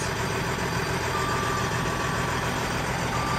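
A heavy truck engine idles with a constant low rumble and a faint steady whine from an exhaust that sounds slightly off, unchanging throughout, close by.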